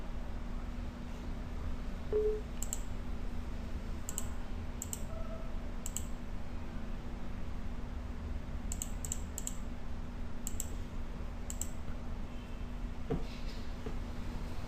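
Mouse clicks sound during a Nextcloud desktop client install on a Windows PC, arriving as scattered single and paired sharp clicks over a quiet hum, with long pauses between them.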